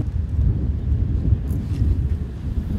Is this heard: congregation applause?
no